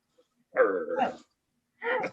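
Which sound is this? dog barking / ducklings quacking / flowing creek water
dog barking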